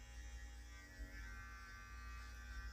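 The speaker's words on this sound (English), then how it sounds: "Right now I'm using the beard trimmer, and I'm going around the ear" An electric beard trimmer buzzes steadily close to the mic as it cuts hair around the ear during a home haircut, its whine wavering slightly as the blades move, with no talking.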